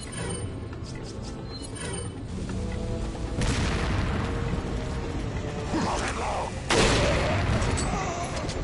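Bursts of gunfire and heavy booms from Resident Evil 4 remake, dense and loud, with a sharp blast near the end over a constant mechanical rumble.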